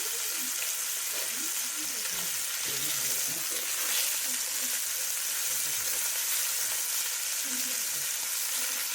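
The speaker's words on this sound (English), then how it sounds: "so this is why they say aggressively fry them" Pieces of beef shank fry hard in oil in a pot, giving a constant, close, even hiss with light clatter of stirring.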